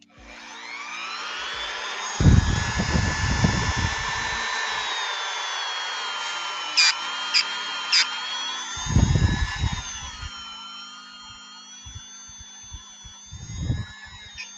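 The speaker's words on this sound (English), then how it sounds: "It feels like a Dremel." A Dremel rotary tool whines steadily at high pitch while customizing action figures, running continuously through the clip with a few brief clicks and short bursts of handling noise.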